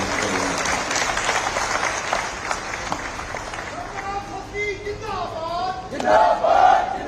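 Audience at an outdoor state ceremony in Una, Himachal Pradesh applauding and cheering as a crowd, a steady wash of clapping and voices with a louder surge near the end, while a speaker talks over it.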